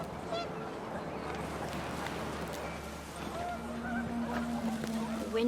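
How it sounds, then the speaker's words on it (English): Geese honking in the game What Remains of Edith Finch, a flock of panicked birds with scattered calls over wind and background narration. "panicked geese appeared and quickly went"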